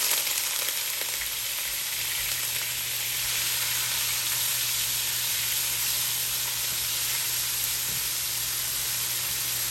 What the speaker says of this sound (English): So I have my oil heating up there.